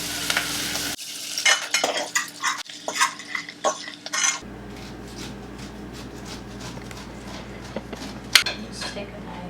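Garlic and onion with a little salt cooking in a pan, close clattering stirs and scrapes of a utensil against cookware over a soft sizzle, with some talk in the background.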